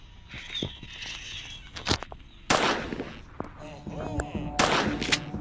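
Gunshots ring out in the horror video game Granny, a few sharp loud bangs mixed with game sounds, footsteps and background effects.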